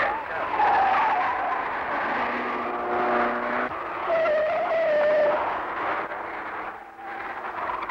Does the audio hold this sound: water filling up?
no